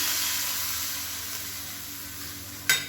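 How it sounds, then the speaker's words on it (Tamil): Mustard seeds, urad dal, curry leaves and asafoetida sizzle in hot oil for a tempering. The hiss is steady and fades slightly, then a sharp burst of spluttering comes near the end. "கடுகு, உளுந்து, கருவேப்பிலை, பெருங்காயம் போட்டு தாளிச்சதை அதில் சேர்த்துக்கலாம்."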